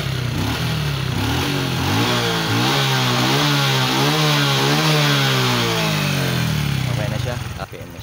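A Honda XRM 125 manual motorcycle idles steadily after a TPS replacement and ECU reset, holding around 1,400 RPM; a loud, close, continuous putter with a slight waver in pitch and no talking over it.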